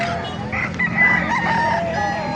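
Roosters crow nearby at a chicken market in Bocaue, Bulacan, over a busy background of clucking fowl, with several overlapping calls in a short burst.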